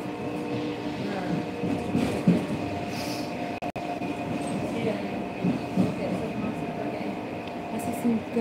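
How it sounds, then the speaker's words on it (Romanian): A subway metro train running through the tunnel, with a continuous loud rumble, rattling wheels and a high squeal, heard from inside the car, while people talk faintly beneath the roar. "Și iau metrou."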